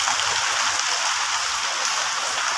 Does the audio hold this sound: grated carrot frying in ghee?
no